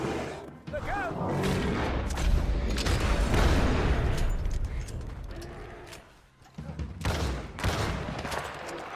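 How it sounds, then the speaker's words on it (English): Rapid gunfire from a Red Dead Redemption 2 hunting fight, a dense roar of shots and booms running loud and continuous for several seconds, then briefly dropping before resuming, with shouting voices mixed in. "Shoot that thing, please!"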